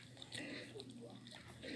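A pig chews red mimosa seeds picked up from the ground, giving faint, close, irregular crunching and biting sounds that run steadily for a couple of seconds.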